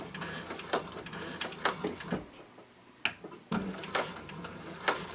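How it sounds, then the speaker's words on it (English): A Techsew 4800 Pro sewing machine top-stitches a pocket, giving a slow, uneven run of sharp mechanical ticks and clicks with short pauses between them, close and moderately quiet. "I'm top stitching the second pocket"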